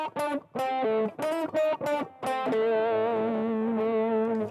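Synthesized melody from the Japanese Sonic CD soundtrack, a run of short, bright electronic notes stepping downward from E and ending on a long, sustained tone with a chorus-like shimmer.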